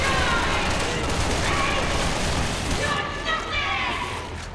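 Guns firing in Resident Evil 6, a continuous rattle of shots and impacts mixed with game noise, fairly loud throughout and tapering slightly toward the end.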